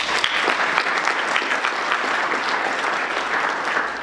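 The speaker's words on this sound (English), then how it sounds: "So round of applause for those 3." An audience at the opening day of an aerospace summit in O'Fallon, Illinois, claps in a dense, sustained round of applause that holds steady for several seconds without any standout voices.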